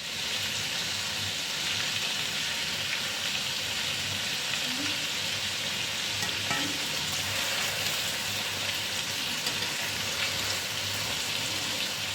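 Chicken pieces fry in a pan, giving a continuous even sizzle and crackle throughout, moderately loud with no voices.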